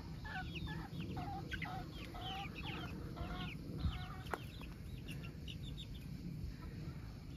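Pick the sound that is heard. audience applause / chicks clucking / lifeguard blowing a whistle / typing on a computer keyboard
chicks clucking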